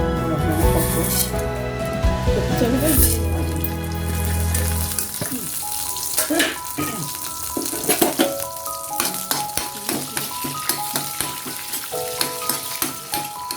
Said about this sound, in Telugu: ఒక ముక్కుడు తీసుకుని అందులో 3-4 చెంచాలు సరిపడా నూనె వేసుకుని ఇందాక మనం తీసుకున్నాం కదండి పోపులు అవన్నీ 1 by 1 వేయించుకోవాలన్నమాట